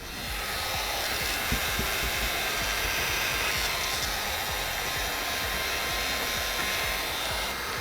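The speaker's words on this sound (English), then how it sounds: "I like to push out the top corners with the pin card and the heat gun on the outside." A heat gun blows steadily on window tint film during tinting of a 2021 Cadillac CT5, giving a continuous, loud, even airy roar close by that holds unchanged throughout with no speech.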